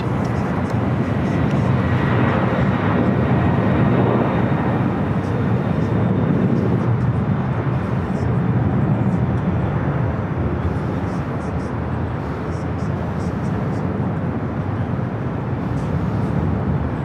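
A Boeing 767 jet rolls down the runway at LAX in a steady, broad roar of engine and rushing noise that holds at a loud level for the whole stretch, with faint voices in the background.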